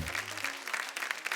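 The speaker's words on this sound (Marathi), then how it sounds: "एकदा जोरदार टाळ्या होऊन जाऊ दे." Studio audience applause at a Marathi television game show, a short burst of dense, even clapping from a crowd with no talk over it.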